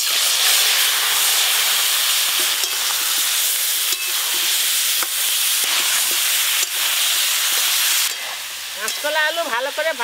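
Raw banana and potatoes coated in spices frying in hot mustard oil, a loud continuous hiss and sizzle with occasional stirring clicks, fading near the end as a voice briefly speaks.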